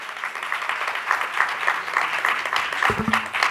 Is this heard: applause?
yes